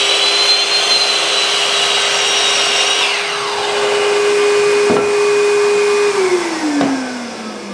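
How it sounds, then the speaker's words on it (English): A power saw cross-cuts a wooden blank for the handle of a replica Ned Stark greatsword. The motor whines at a steady pitch, a couple of short cutting bursts break in, and then the whine winds down. "I'm gonna cross cut just at the edge of both sides."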